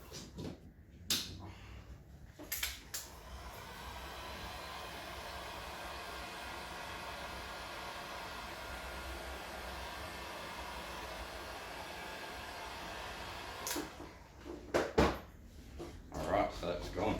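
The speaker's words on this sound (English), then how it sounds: "pop your hand under, lay it back down, heat gun" A heat gun blows steadily on vinyl wrap being laid over a car panel, a continuous close whooshing roar lasting over ten seconds, with handling clicks and rustles at the start and end.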